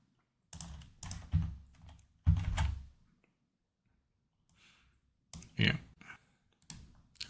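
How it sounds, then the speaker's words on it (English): Bursts of keyboard typing with short pauses between, close and clear, as text is entered while building a wellness spa website; no voices. "Okay, I'll type in anything."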